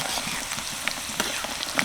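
Soft, steady sizzling of chili rolls frying in oil over medium heat, with a few faint pops over a constant hiss.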